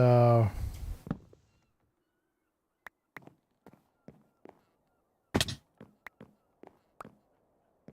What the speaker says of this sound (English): that distant shoreline bird I could hear right now going, wah, wah, wah, wah, wah, wah, wah, wah